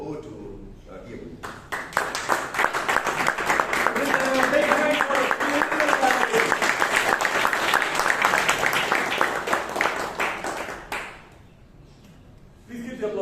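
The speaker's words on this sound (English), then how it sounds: "Please keep the applause going." Applause fills the room at a Bangalore Toastmasters meeting, with steady, loud clapping for about nine seconds under a speaking voice, then fading to quiet.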